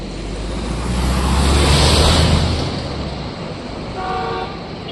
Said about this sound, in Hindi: नीचे नदी की आवाज़ आ रही है